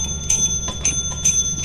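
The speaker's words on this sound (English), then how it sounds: "So now we press the bell." A service bell rings at the sell counter in the video game Lethal Company, giving three or four bright metallic dings spaced roughly half a second apart over a steady low hum.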